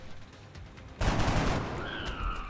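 Gunfire from the video game XCOM: Enemy Unknown bursts out as a dense rattling volley after a second of quiet, fairly faint and continuing for over a second.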